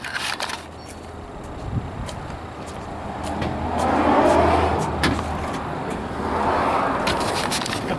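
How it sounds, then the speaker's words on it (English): A 1952 Ford F1 truck drives on a test drive, its engine rumbling steadily from inside the cab, swelling as it accelerates, with small rattles and clicks throughout. "We're gonna go for a quick test drive"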